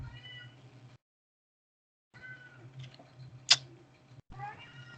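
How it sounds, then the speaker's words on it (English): A house cat meows a few times at close range, quiet, tonal calls broken by a brief silence, over a low steady hum, with one sharp click partway through. "Oh, my bloody cat's here now."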